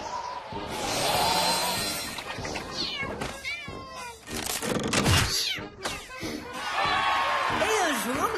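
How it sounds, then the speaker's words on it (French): Cats meow and yowl repeatedly in distressed, drawn-out cries, loud and close, with some scuffling noise between calls. "Sauvez les chats en détresse."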